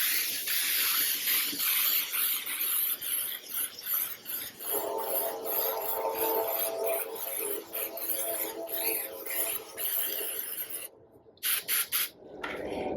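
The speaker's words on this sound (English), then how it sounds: "So we're going to go ahead and give this a generous spray." A steady, loud aerosol hiss of mold release sprayed onto a concrete tile mold runs almost continuously, with a few brief pauses near the end where the spraying stops and starts again.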